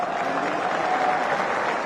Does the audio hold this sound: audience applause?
yes